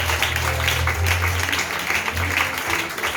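A church congregation at a Sunday service applauding together, a dense continuous clapping with a low hum underneath, sustained at an even level throughout.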